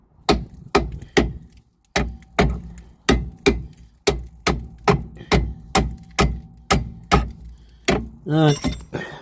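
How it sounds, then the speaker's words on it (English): Repeated sharp metallic hammer blows on a BMW 3 Series E90/E92 track rod end, about two per second, loud and close, ringing briefly after each strike, ending with a short squeal. "And we chop with a hammer."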